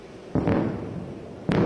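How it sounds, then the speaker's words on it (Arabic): Distant shelling during a live news report, heard as two heavy booming bursts, the first with a rolling tail and the second cut off at the end, over steady background rumble. "هناك أسمع دوي قصف من هذه الجهة"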